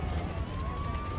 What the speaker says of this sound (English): Fire trucks and ambulances race to help them.